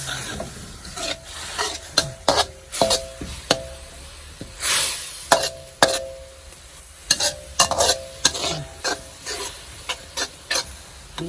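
Curry paste for a Thai jungle curry being stirred and scraped in a pan, a series of short scraping strokes at an uneven rhythm over a faint sizzle, close and moderately loud with no voices.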